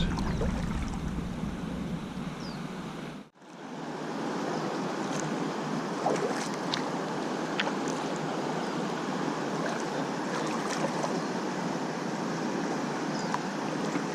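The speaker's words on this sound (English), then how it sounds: "But I can hear how loud it is." A loud river rapid on the Lower Salt River in Arizona roars as a continuous broadband rush of churning water, steady throughout apart from a brief dip, with some wind buffeting and no talking.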